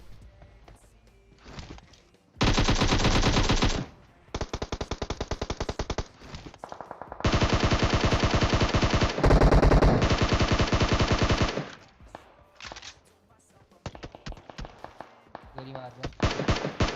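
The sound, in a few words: gunfire in a video game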